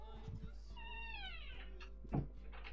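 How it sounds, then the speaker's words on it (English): A house cat meows once in a room, a drawn-out rising and falling cry lasting about a second, heard close over a steady low hum, followed by a brief knock. "Was that an IRL meow?"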